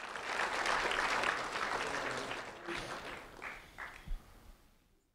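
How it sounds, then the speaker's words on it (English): Audience applause at a sheriff's office recognition ceremony for a fifth grade student, a dense round of clapping that swells at the start and then thins out, with a few scattered claps and murmurs before it fades. "a round of applause for Colby Shirley"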